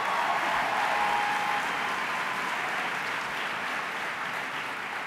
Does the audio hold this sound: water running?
no